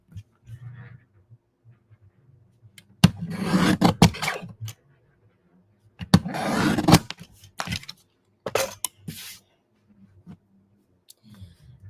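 Card stock trimmed for a handmade rustic fall truck card gives three rasping, scraping bursts, each a second or so, close by with quiet gaps between them.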